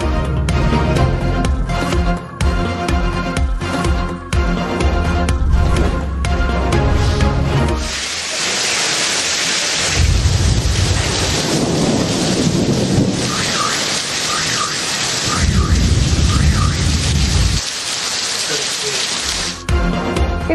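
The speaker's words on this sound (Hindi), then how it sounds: "गरज चमक के साथ मूसलाधार बारिश से मौसम ठंडा ठार" Heavy downpour during a thunderstorm in Islamabad, with rumbling thunder and a dense, steady hiss of rain on surfaces throughout. A low-pitched rumbling opening gives way to loud, broadband pouring rain.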